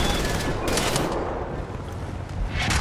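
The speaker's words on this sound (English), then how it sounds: "And I shoot. Boom." Heavy gunfire from a big gun in the video game Wolfenstein: The New Order, a dense, sustained burst of loud shots filling the whole stretch with no talking.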